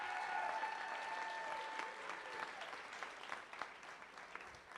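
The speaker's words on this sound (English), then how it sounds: "Another round of applause for Libby." A live event audience gives Libby a round of applause, dense clapping that starts full and gradually thins and softens toward the end.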